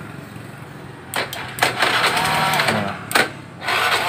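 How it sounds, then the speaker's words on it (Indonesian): A Honda Vario scooter with an old-style CDI is cranked on its electric starter and fires up, giving bursts of cranking, then a steady running engine. A brief word is spoken over the engine. "Sekarang kita tes, nyalakan starternya, mudah-mudahan berhasil."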